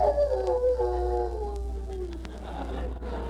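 A man imitates a dog's howl with his voice, a long wavering tone that slides gradually downward over a steady low hum, with no other talking.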